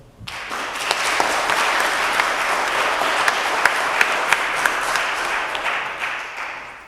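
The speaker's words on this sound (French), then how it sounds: "Alors on le soutient aussi, on l'applaudit." A church congregation at Sunday Mass claps steadily for nearly seven seconds, a dense, even roar of many hands that swells in quickly and tapers off at the end, with no talking over it.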